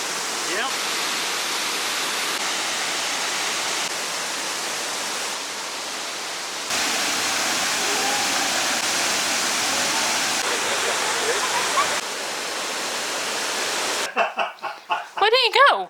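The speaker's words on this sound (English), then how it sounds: "We are now at the third waterfall" A waterfall pours nearby in Chile as a continuous loud broadband rush of falling water, steady throughout, then cut off at the end by brief louder handling or movement noise.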